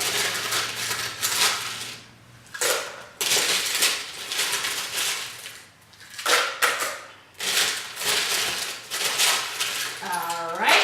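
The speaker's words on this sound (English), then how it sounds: "we do want a lot of ice. So we're gonna go ahead and put that in" Ice cubes tumble and clatter into a cranberry margarita mixture in a container, several loud rattling bursts separated by short pauses, followed by a brief ringing clink.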